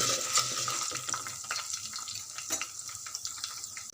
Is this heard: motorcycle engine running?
no